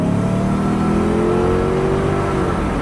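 A Lexus LS400 engine revs hard up to 6,000 RPM after being abandoned for ten years, a loud sustained rising roar that holds high for a couple of seconds without any talk.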